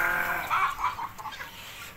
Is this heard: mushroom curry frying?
no